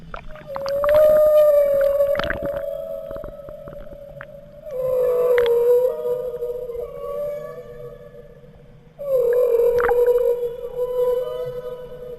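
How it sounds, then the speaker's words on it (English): Humpback whale song recorded underwater by submarine listening gear: long, drawn-out moaning tones in three separate phrases, each swelling in and gliding, with sharp clicks and faint hiss between them. "let's take a listen to a more haunting track released by the humpback whale"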